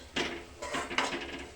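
Amaranth (rajgira) roasting in a pan with ghee, a spoon scraping and knocking against the pan in three quick close strokes.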